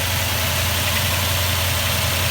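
A 2004 Toyota Tundra engine idles steadily with a low, even rumble and faint vibration, heard up close in a continuous drone with no voices.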